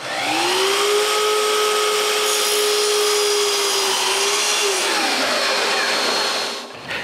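A power saw cutting walnut frame pieces, a loud close whine that holds steady, dips as the blade bites into the wood, then spins down before falling quiet, with no talking.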